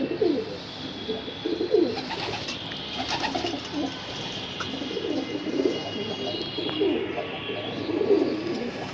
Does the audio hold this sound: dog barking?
no